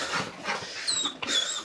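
A police dog at an arrest whimpers and yips in short high whines with a few sharp bursts, close and fairly loud, no talk over it.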